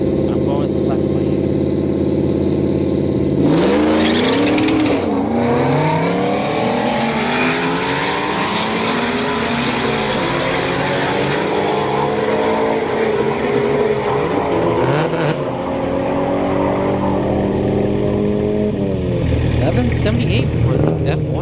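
Supercharged Whipple Ford F-150 and a turbocharged Honda Civic drag racing at a street night strip in Orlando, loud engine roar rising through gears with a burst of acceleration, continuous and close, with voices talking over it.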